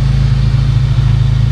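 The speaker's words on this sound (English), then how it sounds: "Idling a little high," A car engine running on a Link aftermarket ECU idles slightly high just after its first start, a loud, steady, close-up drone with a dense low throb and no voices.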